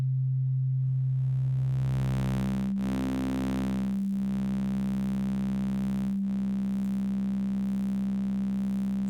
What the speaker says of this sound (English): So clean sine wave.